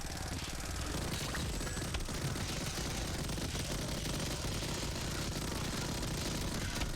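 Automated turret firing in the video game Tower Unite, a steady rapid mechanical rattle sustained throughout at even loudness over a dense background of game noise.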